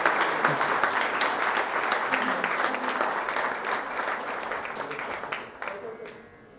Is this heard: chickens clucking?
no